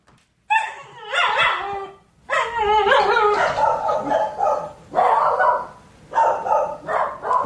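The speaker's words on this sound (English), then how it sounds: "That's the official 10:30 dog." A dog barks loudly and repeatedly in close, yelping bursts with whimpering, high-pitched tones, several clusters of barks separated by short pauses.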